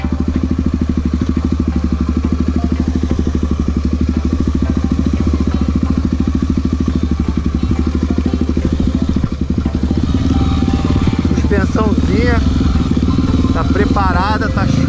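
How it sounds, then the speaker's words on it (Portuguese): A trail motorcycle being ridden, its engine loud and close with a rapid, pulsing exhaust beat that stays constant throughout, and voices talking over it near the end. "a moto tá muito boa."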